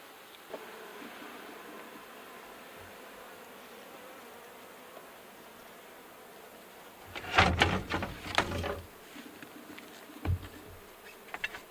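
Honey bees buzz around an open hive during an inspection, a low steady hum with a louder burst of close buzzing and knocks midway, then quieter again.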